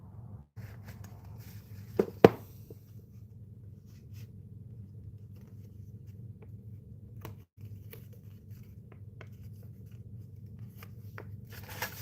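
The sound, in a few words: cutting paper with scissors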